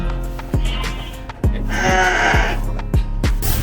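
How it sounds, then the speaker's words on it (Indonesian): Sacrificial goats in a farm pen bleat repeatedly and loudly close by, about half a dozen wavering calls in quick succession with short gaps between them. "di kandang ini kita ada kambing kurban. Kambing bukan domba ya."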